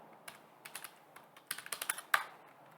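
Fingers tapping code into a computer keyboard, a quick uneven run of close, soft key clicks that speeds up near the end.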